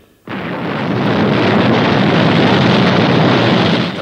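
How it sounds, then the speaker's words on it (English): A mighty rocket blasting off in a puppet sci-fi adventure, a sudden loud roar that rises into a dense, sustained rushing thunder filling the whole stretch. "The mighty rocket was launched on schedule."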